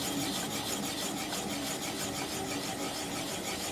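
Steady, continuous broadband scraping of a bowl gouge cutting a wooden bowl on a lathe turning slowly at about 200 rpm, close and even throughout with no speech.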